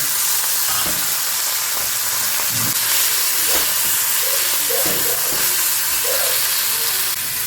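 Small mourola fish fry in plenty of hot oil, giving a steady close hiss and sizzle with scattered pops and spatters throughout, no voices.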